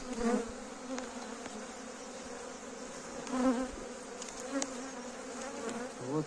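Honey bees buzzing around an open hive in early spring, a continuous close droning hum with individual bees swelling louder as they pass, and no voices.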